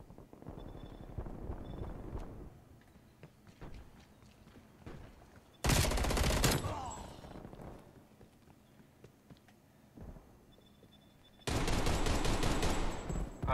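Gun firing in Call of Duty Black Ops Cold War: two loud, sustained bursts of rapid shots separated by quieter stretches of faint background game noise and scattered clicks.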